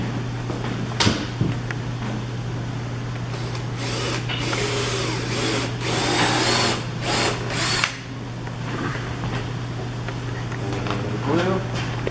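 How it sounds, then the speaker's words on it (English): Power drill fitted with a countersink bit boring into wood for an Adirondack chair, several short bursts of whirring near and loud over a steady hum, with a person talking around them. "You're going to get your countersink."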